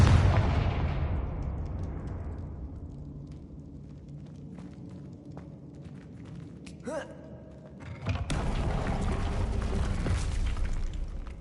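A Confringo blasting spell explodes in Hogwarts Legacy with a loud, broad boom that decays slowly into rumbling debris, then a second heavy blast bursts out late and sustains a rough roar.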